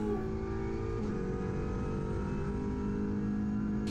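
An Audi RS3 LMS touring race car's engine drones steadily at high revs under near-full throttle on the Nürburgring Nordschleife, heard from onboard as a loud, continuous tone with a brief dip as the throttle lifts.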